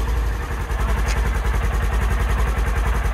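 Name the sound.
Polaris Ranger XP 1000 utility vehicle engine idling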